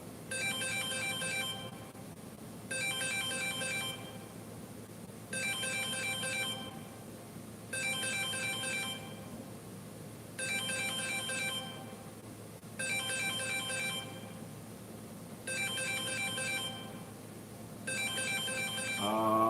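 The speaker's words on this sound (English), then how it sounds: "My phone is ringing." A mobile phone ringtone rings through a talk on insulin resistance, its melodic pattern repeating in about eight regular bursts of roughly two seconds each, moderately loud and close, with no speech over it.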